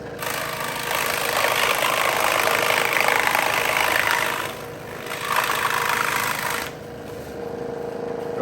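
A scroll saw slices through a foam pool noodle, giving a steady mechanical buzz that swells while cutting and dips briefly twice as the foam is turned, with no talking.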